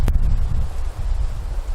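Wind gusts through woods at a campsite, a loud low rumbling buffet with a brief crackle of rustling near the start, steady and close throughout with no talk.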